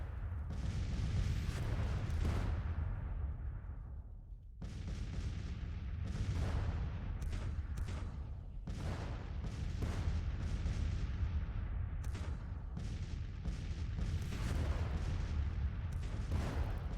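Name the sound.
6-pounder artillery battery firing, from a video game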